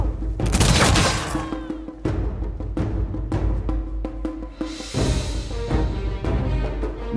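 Musket volleys in the strategy game Humankind, a ragged series of loud cracking gunshots and thuds in clusters over a low background rumble, with no voices.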